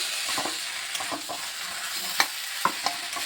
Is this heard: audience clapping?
no